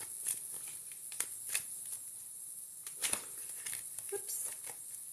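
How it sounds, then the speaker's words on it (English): Tarot reading cards being shuffled by hand, a soft riffling patter of quick paper flicks with occasional sharper snaps, close and fairly quiet, no talking. "Let's shuffle these cards."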